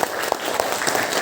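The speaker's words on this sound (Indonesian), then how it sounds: "Tepuk tangan untuk kita semua." Applause from a classroom of schoolchildren at the close of a lesson, a steady patter of many small hands clapping together for a short moment with no talk over it.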